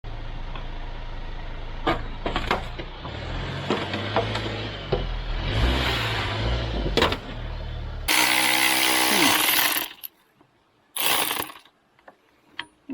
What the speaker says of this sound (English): I think my electric ratchet is starting to mess up a little